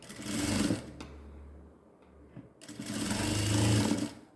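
A sewing machine stitches baby gown fabric in two close bursts of fast, whirring stitching with a short quieter gap between them.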